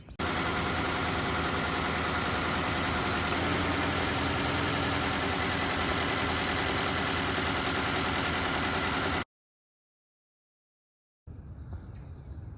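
A Subaru Crosstrek boxer engine idles steadily and close by, a dense, even, throbbing hum that holds for about nine seconds before cutting out, then returns faintly.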